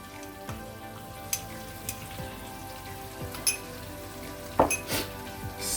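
Creamy shrimp Alfredo sauce with grated cheese bubbles softly in a pan, with a gentle sizzle punctuated by scattered light clinks and scrapes of a utensil stirring against the metal.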